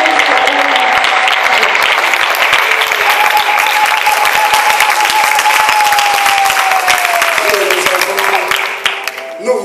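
Loud, sustained applause and cheering from a conference audience at a tenth-anniversary event, a dense wash of clapping with a steady held tone running through it, tapering slightly near the end.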